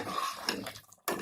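Raw banana pieces simmering in a tamarind gravy are stirred in a pot, making brief close scraping and clinking sounds of a utensil against metal, fairly quiet and without talking.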